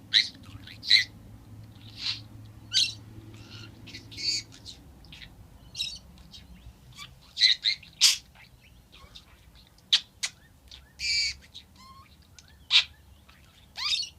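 A pet budgie chirps in short, bright peeps and trills scattered across the stretch, close and fairly clear over a quiet room hum, with gaps of near silence between the calls.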